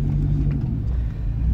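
A Corvette C6 engine rumbles steadily from inside the car, a deep, loud, constant drone under way with no talk.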